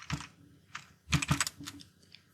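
Quick bursts of keystrokes on a computer keyboard while entering a power-off command at a Linux terminal, uneven clusters of taps close by with short pauses between them.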